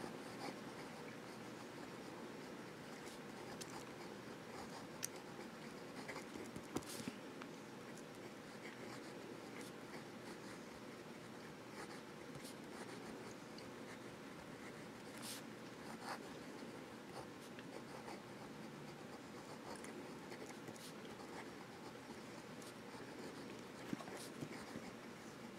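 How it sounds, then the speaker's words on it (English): A Webson Gill fountain pen writing reverse on paper, a faint continuous scratchy rasp of the nib with small irregular clicks and taps scattered through a long quiet stretch. "Reverse writing."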